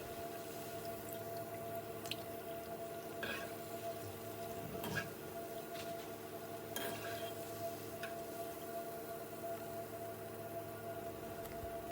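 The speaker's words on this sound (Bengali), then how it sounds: "এভাবে উল্টে পাল্টে সবগুলো পিঠাকে আমি ভেজে নিব" Banana pitha cakes fry in hot oil and get turned over, a soft continuous sizzle with a few faint clicks and taps, quiet and steady throughout.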